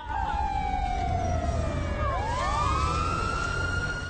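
Police sirens wail in GTA 5, a loud continuous siren sweeping down and then rising again as a second siren overlaps it, layered over a steady rumble of traffic and engine noise.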